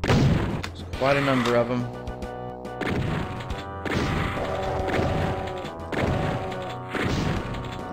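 Rapid chaingun and shotgun blasts at lost souls in Doom 2, repeated loud impacts and crashes under someone talking throughout.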